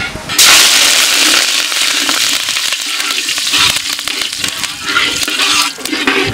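Curry leaves hit hot wood-pressed sesame oil for a chicken samosa filling, bursting into a loud, sudden sizzle after a brief quiet start, then crackling and spitting steadily up close.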